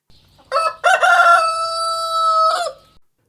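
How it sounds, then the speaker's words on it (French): A rooster crows loudly and close, one long cock-a-doodle-doo with a brief rising start, a sustained held note and a short falling tail, heard alone. "un coq chanta."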